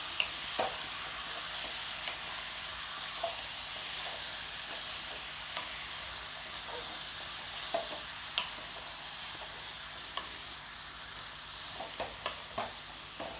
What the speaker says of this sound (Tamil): இப்போ பாருங்கள், நம்ம போட்ட சிக்கனை நல்லா பிரட்டி விட்டுக்கிறலாம்.